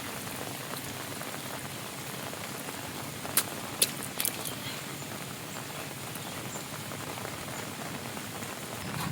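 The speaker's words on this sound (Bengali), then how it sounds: "যা বৃষ্টি হচ্ছে তা এখন" Steady rain falls in the Sundarbans, a dense, even patter throughout with a few brief sharp clicks near the middle.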